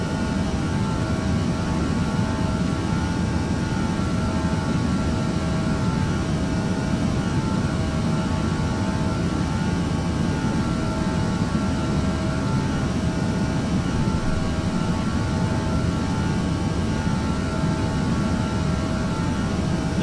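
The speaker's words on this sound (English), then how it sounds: "The sounds you can hear are, for the most part, the engines." Steady, dense roar of airliner jet engines in cruise in Flight Simulator X, a constant broadband rumble with faint wind hiss, unchanging and loud throughout with no voices.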